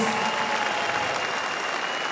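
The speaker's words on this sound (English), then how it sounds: "Ole Magnor, big applause for him." A crowd at an MMA event applauds loudly and steadily, with dense, continuous clapping filling the whole moment.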